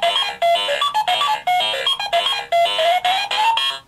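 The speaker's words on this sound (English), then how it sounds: "Yeah, it's a classic Pac-Man theme." A Pac-Man light toy plays the classic Pac-Man theme, a bright electronic chiptune melody of quick repeating beeping notes in short phrases, loud and close with no voices.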